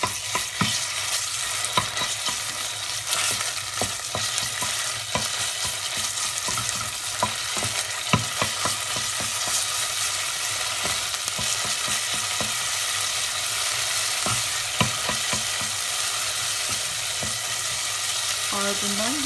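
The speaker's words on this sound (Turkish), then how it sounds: "Şimdi içerisine bir yemek kaşığı domates salçamı ilave edelim. Tekrar güzel bir şekilde kavuralım." Onions and a spoonful of tomato paste sizzle steadily in a pan for a Turkish bulgur spinach dish, with a close, continuous frying hiss punctuated by frequent scraping stirs.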